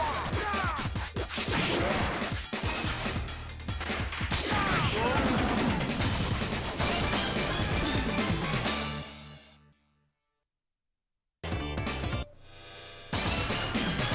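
Punches, smashes and weapon whacks in Irem's 1992 Undercover Cops arcade beat 'em up, a rapid stream of loud impacts over game music and effects, broken by a second of silence before the hits resume.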